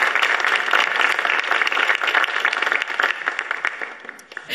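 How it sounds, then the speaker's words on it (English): Sustained applause from the audience at a Rotary oratory competition for the finalist speakers, a dense, even roar of many hands clapping that holds steady, then thins and fades toward the end. "I think they all deserve a final round of applause."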